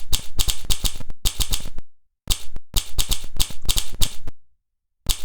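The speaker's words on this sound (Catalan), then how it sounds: "que sona a màquina d'escriure." A typewriter sound effect plays while typing in the FocusWriter word processor, with bursts of rapid mechanical key clacks separated by short silences, loud and close.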